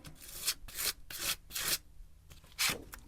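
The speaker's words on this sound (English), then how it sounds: "I'm going to scrape this on and then leave to dry" Material scraped onto handmade collage paper in repeated rough strokes, about five or six close, dry rasping passes separated by short pauses.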